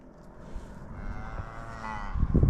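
A cow on a ranch lets out a long, loud moo up close, rising in strength toward the end over outdoor background noise.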